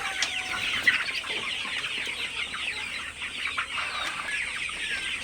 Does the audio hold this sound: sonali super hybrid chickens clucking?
yes